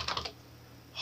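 Fingers typing on a computer keyboard, a quick burst of four close, crisp keystrokes followed by a brief pause and another key at the end, faint and alone.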